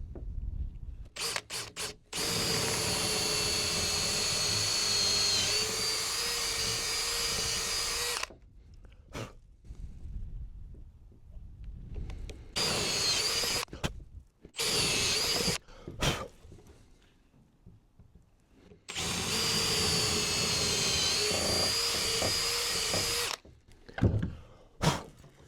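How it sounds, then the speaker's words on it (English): Power drill boring holes in wooden planks with a 6mm bit for a mason bee house, long steady whining bursts that stop and restart several times, close and loud with no talking. "And now I will drill with this 6mm drill, and the second one I will make with 8mm drill."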